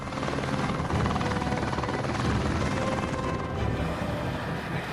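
A helicopter drones loudly and steadily throughout, its rotor chop filling the whole clip with dense, continuous noise and no voices.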